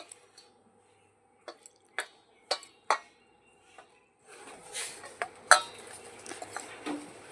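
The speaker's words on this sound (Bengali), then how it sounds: "অল্প অল্প জল দিয়ে আমি ব্যাটারটা রেডি করব" Flour dough being mixed with salt, oil and small additions of water in a bowl: sparse sharp taps and clinks at first, then a denser wet squishing and kneading sound, close and quiet, without talk.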